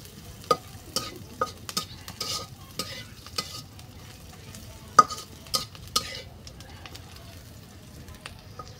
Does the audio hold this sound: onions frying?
yes